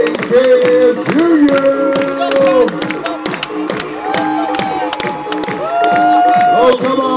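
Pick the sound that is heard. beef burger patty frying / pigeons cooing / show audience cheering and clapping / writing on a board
show audience cheering and clapping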